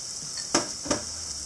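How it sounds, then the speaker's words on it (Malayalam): Onions sauté in a pan for Kerala-style squid thoran, a soft steady sizzle with two quick scrapes of a spoon stirring, faint and close. "ഇനി സവാള നന്നായിട്ടൊന്ന് വഴറ്റിയെടുക്കാം"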